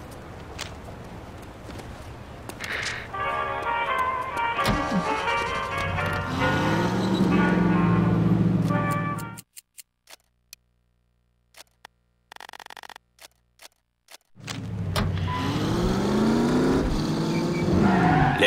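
Car engine and tires from driving in The Saboteur video game, a steady loud engine drone with shifting pitch and squeals, cutting out abruptly midway to near silence before the driving noise returns.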